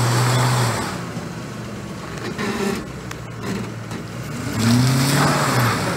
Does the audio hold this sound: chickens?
no